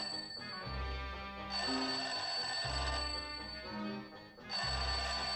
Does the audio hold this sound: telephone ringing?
yes